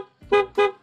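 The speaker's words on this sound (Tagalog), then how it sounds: "testing natin ng busina ng ating Blowpunk" An aftermarket motorcycle horn honks twice in quick succession, each blast short, loud and bright with a buzzy, brassy tone.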